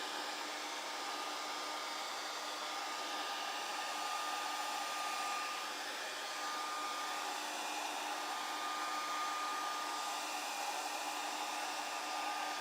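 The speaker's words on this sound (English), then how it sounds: "the reason I'm doing the hairdryer" A hair dryer drying a drum during building runs steadily throughout, a continuous airy whine and rush with a faint tonal hum, fairly quiet and unbroken.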